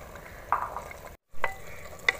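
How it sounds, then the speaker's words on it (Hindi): Boiled chickpeas are stirred and roasted in a pan with other ingredients, giving a soft sizzle broken by a few distinct scraping stirs and a brief silent gap. "उबले हुए चने डालने के बाद अच्छी तरह मिक्स करते हैं और 5 मिनट तक इन सारी चीज़ों के साथ इन चनों को भून लेते हैं।"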